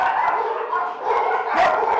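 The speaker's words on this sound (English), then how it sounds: "the barking alone, you know, is just nerve-wracking for a lot of the new animals coming in" Dogs in an animal shelter barking, a dense chorus of overlapping close barks and yips with no pauses, loud and continuous.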